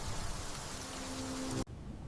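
Steady rain pours down in a dense, even hiss that stays loud and close, then cuts off abruptly near the end.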